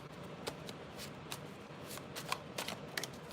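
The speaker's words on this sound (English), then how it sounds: "I'm gonna shuffle the cards every 3 signs." Cards riffled and shuffled several times, with crisp bursts of flicking paper over a low steady background, close and fairly quiet.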